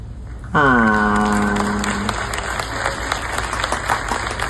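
Audience applause at a televised tribute, a dense wash of clapping with crowd noise that begins under a sustained tonal sound, which fades out after a couple of seconds, leaving the clapping alone.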